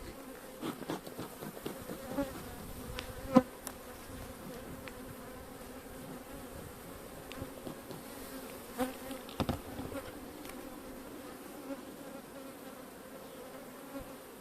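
A low, steady drone of many honeybees buzzing close by at an open hive being worked with a smoker, continuous throughout with a few soft clicks and bumps.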